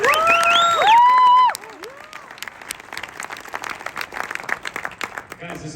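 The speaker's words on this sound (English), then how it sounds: "Let's give another round of applause" An audience applauds at a motivational gathering. The clapping opens with loud whoops and whistle-like voices for about a second and a half, then settles into steady, softer applause that runs to the end.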